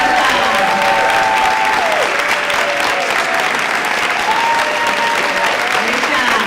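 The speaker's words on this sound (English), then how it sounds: "Big round of applause." Loud sustained applause and cheering from an audience at a Board of Education meeting after a students' salsa performance, with voices calling out and tonal whistles or shouts over the dense clapping.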